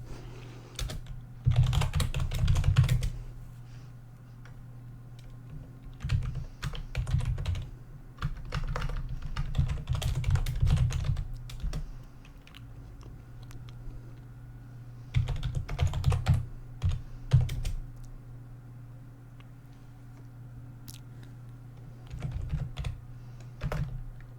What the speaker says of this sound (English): So I'm going to type and speak later.